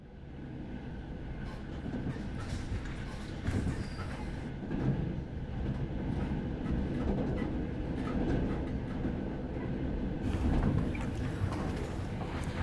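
Steady rumble of a train rolling along the rails to Lviv, Ukraine, a continuous rattling drone with faint rhythmic clacks, heard from inside the carriage.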